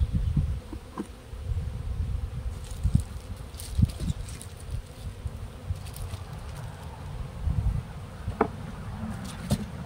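Honeybees buzz steadily and densely throughout inside a hive with swarm cells, a close, continuous drone with scattered higher whines and occasional knocks and rustles.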